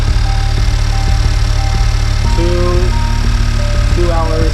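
A Honda Civic Type R engine fitted with a PRL high-volume intake runs at a steady idle, a loud, constant hum with faint tonal whines, unrevved.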